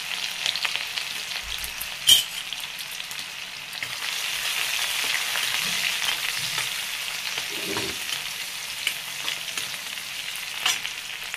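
Oil sizzles and crackles steadily in a pan as chilies, garlic and ginger fry, with a few sharp clatters of a utensil and occasional stirring.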